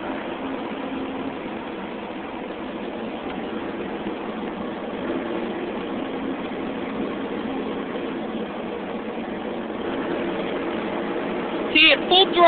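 The engine of a 315C L runs rough at idle with a steady, close, mid-pitched drone and uneven pulsing, and a couple of sharp knocks come right at the end.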